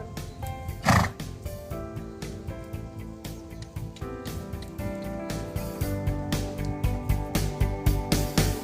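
Hoofbeats of an Icelandic horse moving in gait, a regular rhythmic series of thuds throughout, partly buried under loud sustained musical tones and a snort or whinny near the start.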